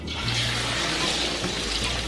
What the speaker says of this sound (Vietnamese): Bây giờ chúng ta sẽ thả con vịt vào.